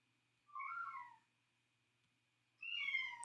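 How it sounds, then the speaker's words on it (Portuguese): A house cat meows to be let outside, two separate drawn-out meows about two seconds apart, clear and close in an otherwise quiet room. "É o gato querendo sair aqui,"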